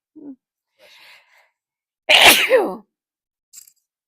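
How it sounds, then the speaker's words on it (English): A single loud sneeze bursts out after a few soft sounds, followed by near silence and a brief faint noise. "oh, gotta sneeze"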